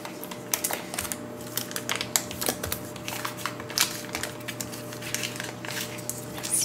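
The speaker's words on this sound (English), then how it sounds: "Just wrapping the butter back up." Butter being folded back into its paper wrapper during cookie baking, giving close, soft crinkling and rustling with dense bursts of small crackles, recorded intimately and alone.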